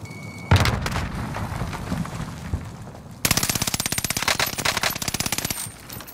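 Automatic gunfire in Call of Duty: Modern Warfare rattles loud and close: a first sustained burst of shooting, then a second, denser stream of rapid evenly spaced shots that lasts about two seconds before fading.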